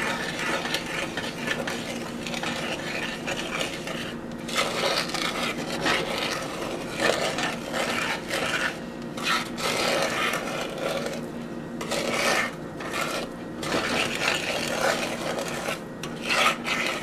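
Steady, close scraping and rubbing as dry ingredients are stirred into a flourless, gluten-free brownie batter in a bowl, continuous and fairly loud with small rhythmic surges and no talking.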